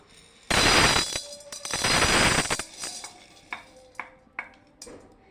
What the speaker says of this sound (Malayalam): നമുക്കൊന്ന് ഇളക്കി കൊടുക്കാം. കറുപ്പ് കളറാവണ വരെ നമുക്ക് ഇളക്കി കൊടുക്കാം.